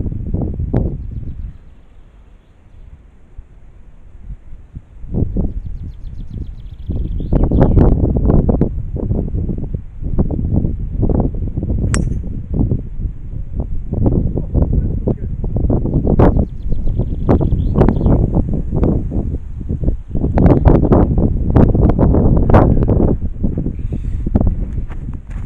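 Gusting wind buffets the microphone on a golf course beside a pond, a steady rushing roar with repeated louder blasts that swell and fade over the whole stretch, with no talking.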